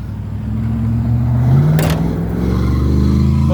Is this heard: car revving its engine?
yes